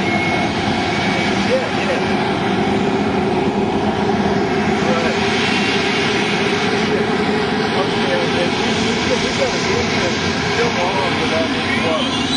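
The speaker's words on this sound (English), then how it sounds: "The engine is spooling up." A loud, steady jet engine roar with a rising whine, close by and continuous throughout.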